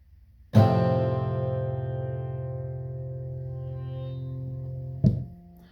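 A single distorted electric guitar chord rings out and sustains for several seconds, fading slowly, then a second chord is struck briefly at the end.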